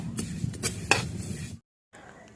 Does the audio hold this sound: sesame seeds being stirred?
yes